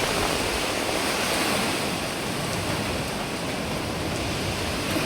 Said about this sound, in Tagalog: Bali-bali ang hangin.